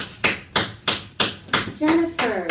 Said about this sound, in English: If you can hear me, clap once. If you can hear me, clap twice.